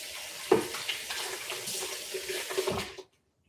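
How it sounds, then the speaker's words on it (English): Tap water runs and splashes into a container during a quick rinse, a close, steady gushing with small clinks and sloshes, stopping abruptly after about three seconds. "I'm just going to give this a quick rinse because I don't want pulp in my butter"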